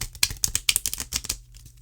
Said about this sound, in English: Let's do a regular shuffle while my charcoal lights up